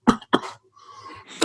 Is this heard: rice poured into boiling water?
no